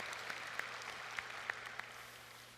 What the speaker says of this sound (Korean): 우리 수고에 감사를 드리며 박수 부탁을 드립니다.